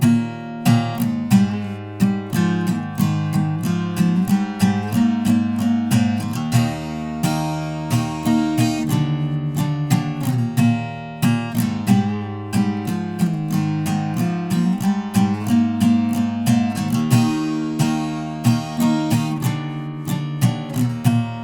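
Strummed guitar playing the chorus of a song, a steady driving rhythm of bright chord strums with a picked melodic line, continuous and close with no voices.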